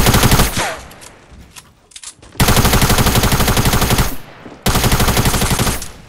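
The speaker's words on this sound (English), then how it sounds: "No, I'm being sniped at." Rapid gunfire in the video game Fortnite, loud repeated bursts of shots separated by short gaps, heard alone without talking.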